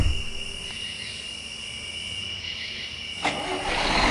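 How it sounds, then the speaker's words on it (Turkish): Bus engine starting in Bus Simulator Ultimate, a broadband rumble with a steady high whine that surges near the end as the engine catches, set against a constant hum and insect-like chirping. "Otobüsü çalıştırdım."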